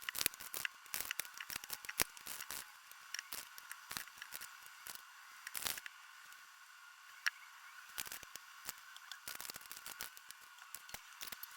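Tarot cards are shuffled by hand at close range, a quiet irregular series of soft riffles, snaps and papery flicks with short pauses between bursts.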